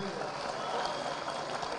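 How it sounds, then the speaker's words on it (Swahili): A crowd at a PNU political meeting at Bomas applauds steadily, a dense wash of clapping that fills the whole short stretch with no break. "Mpigieni huyo kijana ondari makofi mengine mazuri na mengine."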